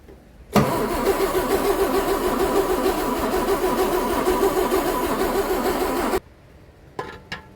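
A G60 engine cranks and fires, then runs with a steady, rough mid-pitched engine note for several seconds before cutting off abruptly, followed by a few faint clicks.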